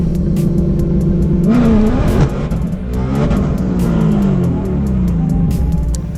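A 2020 Ford GT500 with a Whipple supercharger launches at a drag event, its engine roaring loud and close with rising revs and rumble before a sudden break as an axle gives way.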